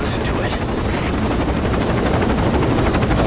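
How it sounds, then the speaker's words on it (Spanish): Helicopter in the video game Metal Gear Solid V: Ground Zeroes, a loud steady rotor roar with rapid blade chop that fills the whole clip. "Se para el helicóptero con el niño, eso es bueno."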